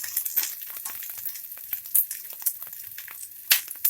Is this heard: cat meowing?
no